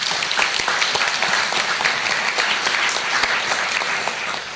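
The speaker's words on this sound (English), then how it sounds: "Can we give them a round of applause, please?" An audience at a conference opening plenary applauds continuously and evenly, a dense crowd of clapping hands holding steady throughout with no break.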